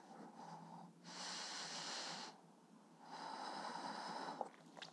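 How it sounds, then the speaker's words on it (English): Deep, full breaths drawn during a slow yoga stretch, two long airy inhale-exhale swells about a second apart, close and soft with no talk. "One more full breath."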